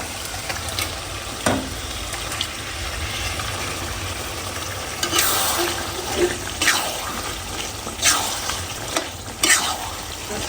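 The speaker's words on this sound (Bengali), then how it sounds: "মশলা কষানো হয়ে গেছে, এখন এই যে মাংসগুলা দিয়ে দিব।" Goat meat goes into a pan of fried spice masala with a low, continuous sizzle. Several louder bursts of frying and stirring scrapes come at irregular intervals, heard close up without talk.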